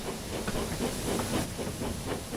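James, a steam locomotive from Thomas and Friends, puffs away with a steady hiss of steam and soft rhythmic chuffs, fairly faint and without voices.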